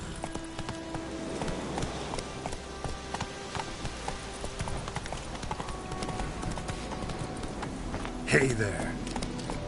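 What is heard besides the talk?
horse Roach's hooves clip-clopping, from The Witcher 3 video game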